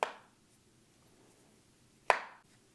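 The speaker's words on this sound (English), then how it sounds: "Samsung did for the first time take out parts from their hinge, and it's just has a more satisfying clap to it" Two sharp, crisp snaps as the hinge of a Samsung Galaxy Z Flip 5 foldable phone claps shut, one right at the start and another about two seconds later, close-up in near silence.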